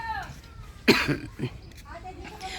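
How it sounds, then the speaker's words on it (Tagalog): A person coughs outdoors at a viewpoint facing Mayon Volcano, a sharp close burst followed by a second smaller cough, with faint voices and background murmur around it. "inuubo ako"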